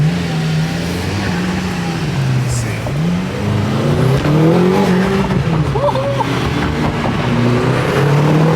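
A McLaren sports car engine drones loudly from inside the cabin and rises in pitch as it accelerates, with people talking over the steady roar.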